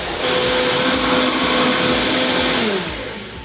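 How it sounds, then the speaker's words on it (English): A countertop blender runs loud and steady, whirring leeks into a thick onion soubise cream, its motor pitch dipping slightly as it strains, then winding down near the end. "you really want to give this some time to blend completely down"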